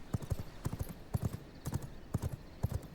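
Horse hooves clip-clopping in the vampire survival game V Rising, a close, steady trotting rhythm of paired hoof strikes repeating for several seconds with no talk.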